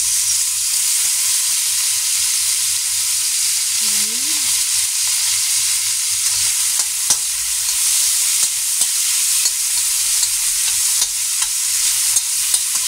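Garlic, pork and tomatoes sizzle loudly and steadily in a pan, a dense continuous hiss with scattered faint clicks and pops throughout.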